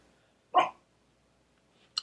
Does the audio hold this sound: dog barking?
yes